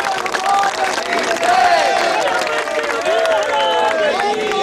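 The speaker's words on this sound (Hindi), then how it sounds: "आने वाले दिनों में एक बार सभी लोग ताली बजाएं।" An audience at a Hindi public speech breaks into steady, sustained applause mixed with cheering and crowd noise, with voices audible within the clapping.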